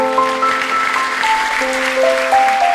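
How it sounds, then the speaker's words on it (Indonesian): A church congregation applauds during a sermon service, a continuous spread of clapping under sustained keyboard or organ tones that shift pitch, moderately loud and steady throughout. "Mari kita beri tepuk tangan untuk Tuhan Yesus."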